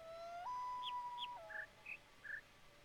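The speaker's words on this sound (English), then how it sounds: "Chirp, chirp, chirp, chirp, chirp." Short chirping electronic notes from a puzzle in the video game The Witness: a steady whistled tone shifts pitch, then five brief high chirps ring out in an irregular sequence, clear and fairly quiet.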